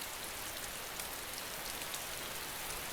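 Heavy rain in the survival game DayZ, a constant, even hiss of downpour with faint drop patter, quiet and unbroken throughout.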